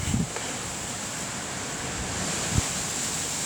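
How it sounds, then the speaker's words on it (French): Storm Ciara in Lyon brings a strong gust, a steady broad roar of wind rushing past the microphone for a few seconds, with a couple of brief low buffets and no talking. "j'entends une rafale arriver, ça a soufflé, préparez-vous"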